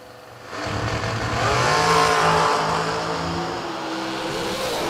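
A dragster at a drag race gets a couple of sharp throttle rips, its engine roaring loudly for a few seconds against the background noise of the strip before settling to a steadier drone.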